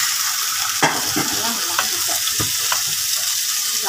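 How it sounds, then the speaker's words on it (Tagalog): Beef steak sizzling in a hot pan on a home stove, a steady loud frying hiss with occasional scrapes and clinks of a utensil, no talk over it. "This is how I cook the steak."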